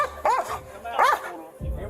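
Police dog barking twice in short bursts amid an arrest at a house, fairly close and loud, with a low thump near the end and officers' voices around it.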